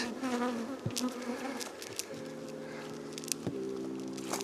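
A steady buzzing hum of bees around a hive with a few sharp taps and knocks, close by, continuing throughout without voices.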